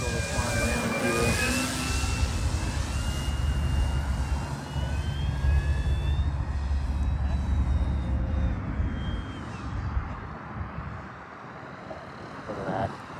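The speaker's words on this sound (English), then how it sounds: "this Cub is very aerobatic even on 4S" A Hangar 9 J-3 Cub 10cc RC airplane on a 4S battery flies overhead, its electric motor holding a steady, fairly loud whine with shifting pitch as it passes, then easing off slightly toward the end.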